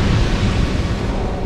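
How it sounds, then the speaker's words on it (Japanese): Explosion in the video game Dark Souls II, a loud low rumbling blast that fills the moment with dense, sustained roar and no clear onset or trailing echo. "これをまず爆発させちゃって"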